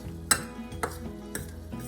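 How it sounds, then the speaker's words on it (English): Onions being stirred in a pot for broccoli cheddar soup, with a few sharp clinks of a utensil against the pot rim spaced out over a low steady kitchen hum, fairly quiet and without talk. "now I'm gonna give the onions a stir while we're doing this"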